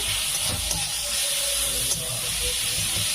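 Onion and garlic frying in a pan, a constant loud hiss with faint crackling and occasional soft clicks of stirring, heard up close.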